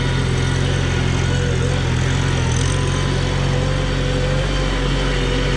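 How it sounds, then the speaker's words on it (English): A Farmall Super C tractor engine runs steadily nearby with a loud, continuous low rumble and an even idle, and no voices over it. "she's running good"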